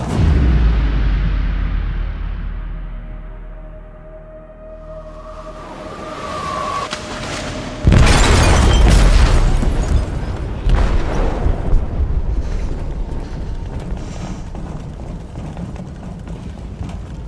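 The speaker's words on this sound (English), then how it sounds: "They detonated an explosive in the hold." A loud, sudden boom of an explosive detonating in a ship's hold in the game Detroit: Become Human, bursting out after a quieter rumbling stretch and followed by a heavy, sustained roar and rumble.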